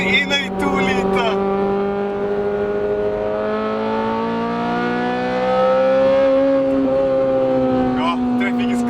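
A Honda Civic Type R with a 2-liter engine drives along in traffic. Its engine tone holds a steady, close drone, then rises and falls gently as the car pulls and eases off.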